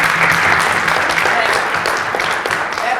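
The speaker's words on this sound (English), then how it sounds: "Yes, we can applaud." Steady, dense applause from an audience at a Black History Month celebration in Oak Park, loud and sustained without a break throughout.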